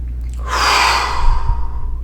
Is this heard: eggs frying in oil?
no